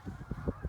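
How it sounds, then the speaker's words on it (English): Geese rising from a farm field give a quick run of honks, faint and distant, repeating in a steady rhythm. "All of our geese just got up out of our field"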